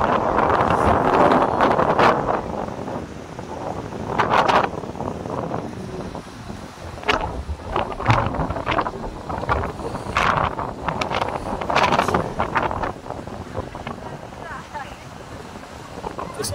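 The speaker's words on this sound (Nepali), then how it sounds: "कस्तो हावा छ यार।" Strong wind gusts roar across an open mountain landscape in Upper Mustang, Nepal, near the Korala border, a heavy low buffeting rumble that swells and eases over about sixteen seconds, with people talking intermittently over it.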